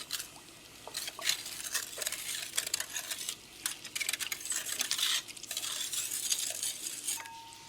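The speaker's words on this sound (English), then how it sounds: "now I'm just going to whisk all of this together so it's combined" Whisk clattering in a bowl while mixing a Filipino pork barbecue marinade with black pepper, with quick irregular scraping and tapping strokes that are close and moderately loud with no talk.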